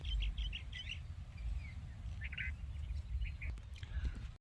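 Faint, scattered bird chirps and tweets come through a low, steady rumble of background noise on a coastal Hawaii hike, the calls distant and irregular.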